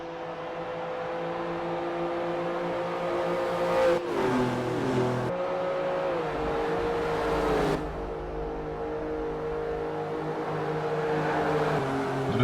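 NASCAR race car engines from Forza Motorsport 4 drone at a steady high pitch, shifting tone a few times as gears change, loud and continuous over twelve seconds.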